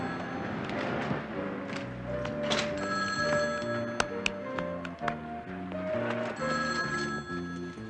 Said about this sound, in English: Excuse me, I think that's my phone.